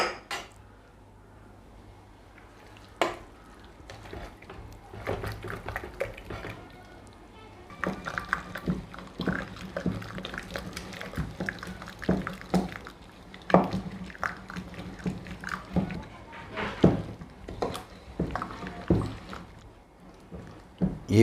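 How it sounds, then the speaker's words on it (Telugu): Cooked lentils are mashed lightly with a wooden masher in a metal pot, giving a run of soft thuds and clinks that start sparse and grow into a busier irregular rhythm over quiet background. "అయినా ఒకసారి పప్పు గుద్దితో లైట్గా మెదుపుకుందాం."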